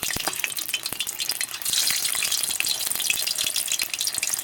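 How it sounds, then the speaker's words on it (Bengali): Dough pieces dropped one by one into hot oil, a bright, crackling sizzle that swells and steadies as more pieces go in, with small sharp pops and occasional utensil clicks. "তেলটা গরম হয়ে গেছে, আমি এই যে এগুলো এবার এক এক করে ছেড়ে দেব।"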